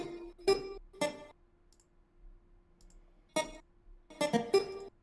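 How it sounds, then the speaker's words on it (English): Computer keyboard clicks in sharp, irregular bursts, a few isolated strikes and then a quick cluster, close and fairly loud against a quiet background. "I'm feverishly trying to get my keyboard to work"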